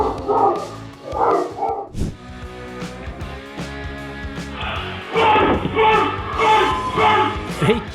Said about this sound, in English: Fake bark?